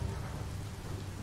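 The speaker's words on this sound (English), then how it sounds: "But it's raining." Rain falls in the Biomutant video game as a dense, even hiss with a low rumbling undertone. It is steady throughout, with no voices.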